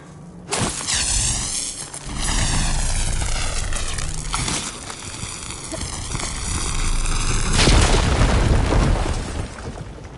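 A fire gleam cluster in Horizon Forbidden West blows up with heavy booming blasts that give way to a roaring, rushing rumble and sweeping whooshes, loud and sustained with a final swelling burst.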